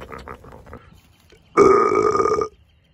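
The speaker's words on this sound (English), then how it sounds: "What a burp." A loud, single drawn-out burp from a cartoon pig character after a hay snack, following brief talk and lasting about a second before cutting off.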